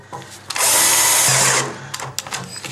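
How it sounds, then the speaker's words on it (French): A small cordless drill-driver fitted with a bit, set to second speed in drill mode, drives a screw while a wall-hung toilet is being fitted. It makes one loud whirring burst of about a second, followed by scattered clicks and handling noises. "j'ai une petite visseuse et sur cette visseuse j'ai mis un embout comme ça là"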